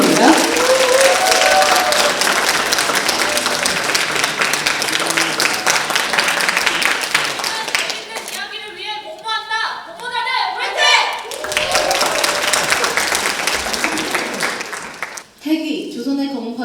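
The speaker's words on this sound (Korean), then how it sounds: "여러분 큰 박수 부탁드립니다" Loud audience applause welcomes a student team onto the stage at a presentation event, dense clapping that thins out midway and then swells again, with some voices and cheering mixed in.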